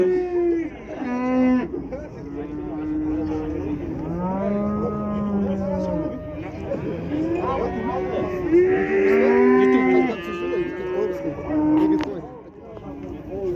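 A bull moos repeatedly at a Kyzylorda livestock market, the long lowing calls rising and falling one after another, loud and close, with market noise and occasional voices around.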